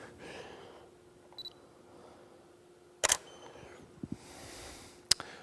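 A DSLR camera shutter fires at fast shutter speeds around 1/400 to 1/500 second, giving a few sharp, separate clicks spread across a quiet room, with faint beeps between them.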